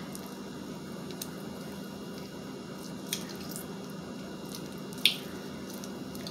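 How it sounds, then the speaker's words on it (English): A lime is squeezed by hand into a glass of water, giving two faint, brief squishes with a light drip over a steady low background. "I'm gonna do a lime and squeeze the lime in here"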